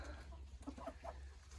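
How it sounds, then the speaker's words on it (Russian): A silkie rooster gives a few soft, short clucks at close range over a steady low background hum. "Сидит, охраняет наш петушок шелковый."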